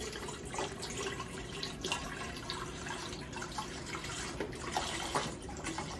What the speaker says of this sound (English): we are gonna fill it up with one thing of beef bone broth